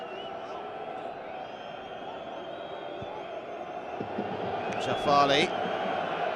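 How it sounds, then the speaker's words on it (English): Football stadium crowd at an Urawa Red Diamonds vs Al Hilal AFC Champions League match in 2017, a steady distant roar swelling slightly toward the end, under a commentator's voice. "the crowd relentless with their enthusiasm and audible notes of displeasure every time Al Hilal enjoy any kind of spell of possession"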